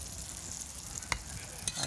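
Crab frying in a pan with orange zest, cooked by a chef at a fishing trade-show demo, gives a faint, steady sizzle with a couple of brief clicks and taps, no talk.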